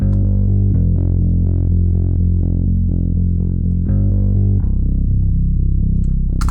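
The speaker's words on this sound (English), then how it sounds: "Just like a very natural, organic bass guitar sound." A deep, fuzzy synthesized bass guitar preset plays a slow sequence of sustained notes for an indie pop rock track, loud and continuous, with no other instruments or voices.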